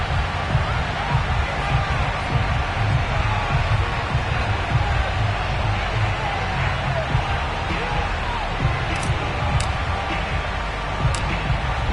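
Baltimore Ravens home crowd at M&T Bank Stadium roaring as the Ravens and Houston Texans emerge from their tunnels, a steady, dense wash of distant cheering and babble that holds for the whole stretch without breaks.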